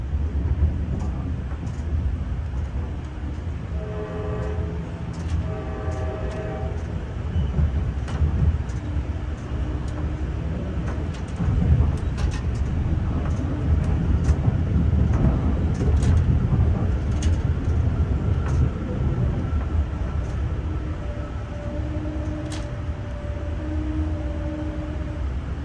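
Steady low rumble of an Amtrak Cardinal train in motion, heard from inside a Viewliner I sleeper compartment, with continuous rolling noise and faint intermittent clicks and tonal whines over the run.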